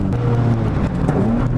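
A car being drifted with the handbrake, engine droning steadily and loud close by as it slides, throttle held through the whole stretch with no break.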